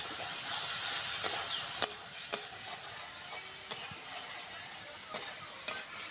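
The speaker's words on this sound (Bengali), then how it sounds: "ভালো করে ভাজা ভাজা করে নিতে হবে মশলাটাকে, এটা কাঁচা গন্ধ না ছাড়ে।" Masala spice paste with a little added water fries in a pan, a steady bright sizzle and hiss with occasional sharp clicks and scrapes of stirring, close and continuous.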